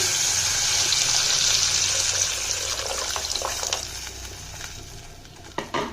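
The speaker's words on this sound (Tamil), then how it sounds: "நம்ம கரைச்சி வச்சிருக்க புளி கரைசலை இது கூட சேர்த்துக்கலாம்." Tamarind extract, diluted in rice water, is poured into a pan of sautéed onions for kalani puli saru, making a steady liquid gush and splash that tapers off over several seconds, ending with a few clinks.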